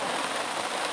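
Steady rain patters on a surface at a hut in a rural village, a dense, even hiss with no voices.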